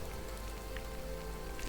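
Rain falling in the Skyrim video game, a steady soft patter of drops on surfaces with no voices, constant and quiet throughout.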